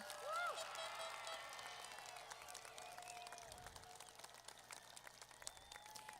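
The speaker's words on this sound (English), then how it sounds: "Let's give all of them a very loud round of applause." Graduation ceremony audience applause in a large venue, a dense steady wash of distant clapping with faint cheers and crowd murmur, fairly quiet throughout.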